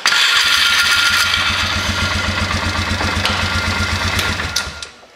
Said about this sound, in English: you just saw there as I tapped on it and held the ignition on, it did start.